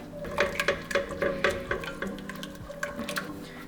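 Cheese being stirred into a pot of Kraft macaroni and cheese with heavy cream, giving a series of wet, sticky clicks and scrapes at an irregular rhythm, close and moderately loud, with no voices.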